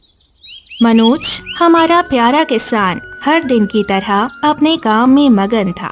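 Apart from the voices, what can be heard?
birds chirping, story sound effect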